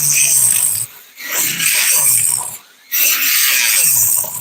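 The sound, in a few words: grinding G10 material into fine dust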